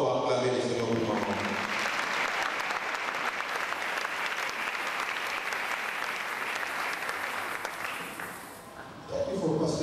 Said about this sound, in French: Can you put your hands together for Mama again?